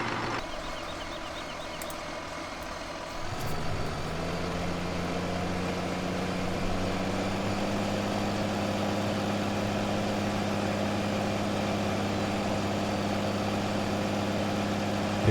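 Tractor engine in Farming Simulator 2015 on the Sandy Bay map, a steady droning motor that shifts pitch early on, then holds a constant loud low rumble throughout with no talking.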